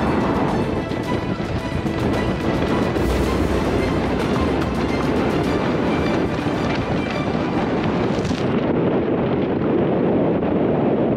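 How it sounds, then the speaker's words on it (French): Strong wind of over 20 knots roars across a sailboat at sea off Portugal, a dense, constant buffeting rush with water noise beneath, loud and unbroken throughout. "Il y a plus de 20 nœuds de vent là maintenant. Donc ça commence à souffler."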